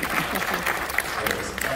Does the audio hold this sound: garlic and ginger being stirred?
no